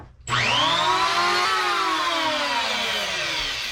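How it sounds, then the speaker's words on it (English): An electric planer runs along wooden boat trim, starting abruptly into a loud, steady high whine with a bright, strained edge that holds for several seconds and slowly sags near the end, up close with no talk. "I'm just taking the electric planer and running it along here until I get close"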